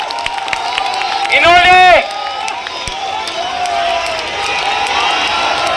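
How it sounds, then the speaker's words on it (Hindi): Crowd at a Gen Z protest at Jantar Mantar cheers and claps for Sikh participants, a burst of shouting voices mid-clip over continuous applause and crowd noise outdoors. "जोरदार तालियां हो जाए हमारे सिख भाइयों के लिए, जोरदार तालियां हो जाए।"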